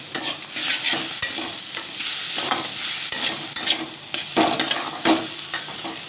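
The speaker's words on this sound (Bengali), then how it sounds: "ভালোভাবে কষিয়ে নিচ্ছি। কষানো হয়ে গেছে।" Spices being sautéed in a pan for banana flower masoor dal, a close sizzle with repeated scraping stirring strokes in an uneven rhythm and no talk.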